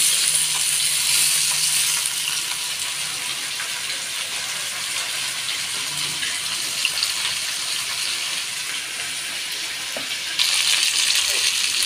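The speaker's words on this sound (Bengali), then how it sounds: "এখানে মাছ ভাজা হয়ে গেছে" Fish sizzles in hot oil in a home kitchen, making a steady, dense frying hiss that holds close and fairly loud throughout with no voices.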